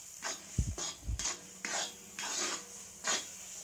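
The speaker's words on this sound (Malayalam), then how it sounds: "ഇനി ഇതിലിട്ട് നന്നായി ഇളക്കി കൊടുക്കാം." A spoon scrapes and clinks in a pan as thick jackfruit paste cooked with ghee is stirred, several separate strokes with a couple of low thumps, fairly quiet and close.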